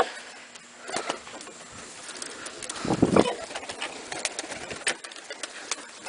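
Soft roller pigeon coos and wing flutters inside a loft, with a louder burst of fluttering midway and scattered small taps around it.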